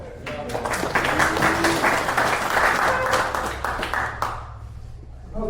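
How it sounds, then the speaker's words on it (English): A meeting audience applauds a new advisor at a district gathering, a steady crowd of clapping hands lasting several seconds with faint voices mixed in, then tapering off. "Our new advisor, give him a big round of applause."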